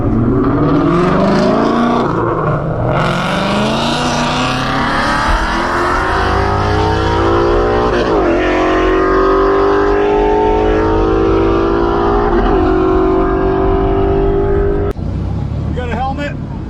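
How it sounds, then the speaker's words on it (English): A 2022 Subaru BRZ and a Dodge Neon accelerate hard side by side at a roll race, engines droning loud and near with rising pitch through the gears, a steady roar for most of the stretch with wind noise and voices mixed in. "Once we hit the tree, we're both gonna smash the throttle."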